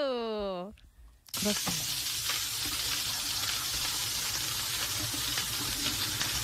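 Steady crackling sizzle of Korean chive pancake batter frying in a hot pan, loud and close, following a brief spoken word and a short tone at the start.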